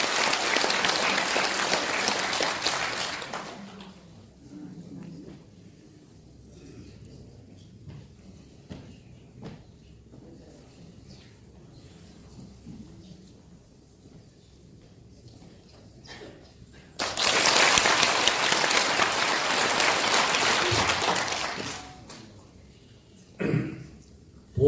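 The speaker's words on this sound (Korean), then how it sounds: "박수로 환영해 주시기 바랍니다." Audience at a conference debate applauding to welcome a speaker, two bursts of clapping a few seconds long separated by a long quiet stretch of soft room noise, with a brief knock near the end.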